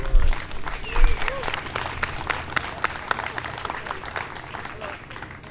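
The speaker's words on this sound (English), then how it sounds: "Let's hear a big round of applause for all of us." At a community hospital rally, the crowd answers with a burst of clapping. The rapid, crackling claps are dense at first and thin gradually over several seconds, with faint voices mixed in.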